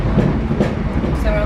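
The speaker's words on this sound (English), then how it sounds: "So we're on this train for an hour and 10 minutes." A passenger train runs on rails in Portugal, heard from inside the carriage as a loud steady rumble with rhythmic clacks and a faint squeal, and voices murmur in the background.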